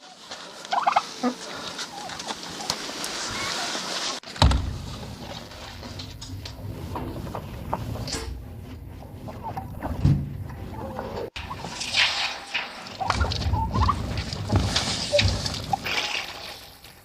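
Turkeys gobble in repeated loud bursts on a historic farmstead, with brief sloshing water sounds between the calls.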